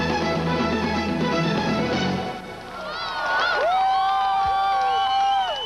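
At a concert on the 1997 world tour, a large crowd roars and cheers continuously, with shrill whistles and rising whoops standing out above the din.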